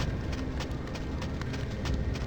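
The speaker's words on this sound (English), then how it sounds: "Hey, a horse!" Horse in the video game Summoner: a steady, muffled rhythmic clip-clop of hooves under a dense, constant background hum, continuous and fairly faint, no talking.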